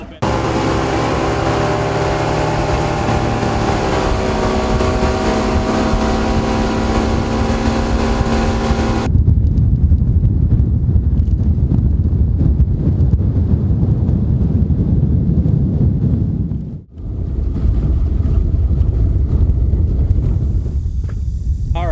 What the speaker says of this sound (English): we're gonna motor up the lake here just a little bit